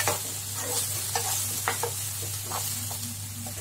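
Spiced masala sizzles and fries steadily in a pan with browned onions, turmeric and red chili powder, a constant close hiss broken by soft scraping stirs.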